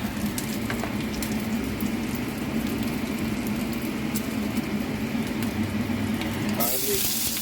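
Garlic sizzles steadily as it fries in a pan, a continuous bright crackle that stays even and close throughout, with a brief clatter near the end.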